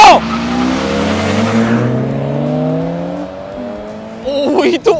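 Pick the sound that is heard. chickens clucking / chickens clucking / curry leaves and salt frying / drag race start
drag race start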